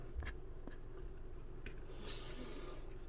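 Excess epoxy wiped and rubbed off an outrigger sponson during a marine kit build, a steady close scraping rub running the whole time with a few sharper scuffs, no voices.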